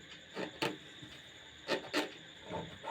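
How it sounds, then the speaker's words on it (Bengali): A fingernail rubs along the sewn seam of a kameez fabric in short, quiet scratching strokes, about five distinct rasps close up with soft gaps between. "এভাবে নখ দিয়ে আমরা ঘষে নেব"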